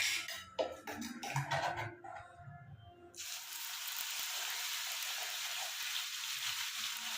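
Ground onion paste drops into hot oil with cumin and a loud, steady sizzle erupts and holds close by, after a few seconds of quieter sounds with some talk.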